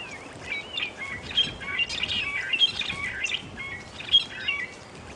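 Busy chorus of drongos and oxpeckers calling on a safari drive at sunrise, with sharp chirps and harsh chattering overlapping steadily throughout, moderately close against a low background rumble.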